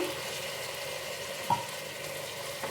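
Soaked, softened soya chunks tipped into a hot pan for soya chunks palav and stirred, giving a low steady sizzle with a brief stirring clatter midway, no voices.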